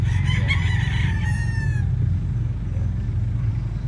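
A Mt. Banahaw F1 butcher super brown rooster crows once, a loud, close, wavering call over the first two seconds that fades out, with steady low background rumble continuing alone afterward.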